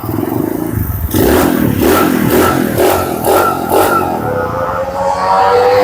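A 110cc automatic mini trail motorcycle engine revs up hard several times in quick bursts, loud and close, with a rough throaty roar between throttle blips.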